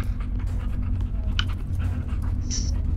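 A dog pants steadily at close range in a Teardown gameplay session, a continuous breathy rhythm with a few brief higher squeaks, heard alone without talk.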